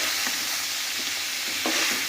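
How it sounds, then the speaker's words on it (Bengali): Snake gourd stirred and fried in a pan, a steady broadband sizzle with a few soft scrapes of the spoon against the pan, close and continuous without pause. "চিচিঙাটাও দিয়ে এবার আমরা একটু খুব ভালো করে এটাকে ভাজা করব"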